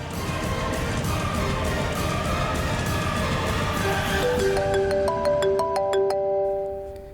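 A mobile phone rings for an incoming call, a loud repeating electronic tune rising clearly over background music and continuing to the end.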